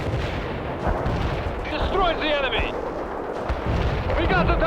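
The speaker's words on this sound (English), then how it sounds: "Artillery strike hit the mark." An artillery strike pounds a target in World in Conflict, a dense rumbling barrage of blasts that continues throughout, with radio voices and chirping tones over it.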